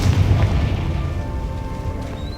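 A Confringo fire spell bursts in Hogwarts Legacy with a loud, low booming blast that rolls on as a sustained rumble, with no voices over it.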